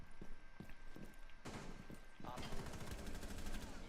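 Gunfire in Rainbow Six Siege, with bursts of shots and rapid broadband cracks building toward a sustained rattle near the end, mixed with footsteps and game noise, while a voice talks over parts of it.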